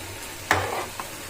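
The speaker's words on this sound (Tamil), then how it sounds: "பாருங்க, ரவை கொட்டி கலரிருக்கேன்." Wheat rava stirred into boiling vegetables in a pan, a short scraping swish of the spoon followed by a faint second stroke over a quiet simmer.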